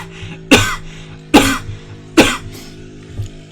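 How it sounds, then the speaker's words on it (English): Three sharp, hoarse coughs in steady succession from someone with a sore throat, close and dry, followed by a softer throat sound. "I keep feeling the necessity to cough"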